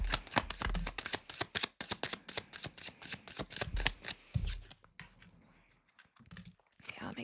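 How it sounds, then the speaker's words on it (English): Tarot cards are shuffled in a dense run of quick riffling clicks and flaps, followed by a few softer card pulls and handling sounds as the activity slows. "let's go ahead and pull some of those cards"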